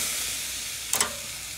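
BBQ spare ribs hiss with a steady sizzle on a grill, with a brief louder burst as the meat is flipped midway.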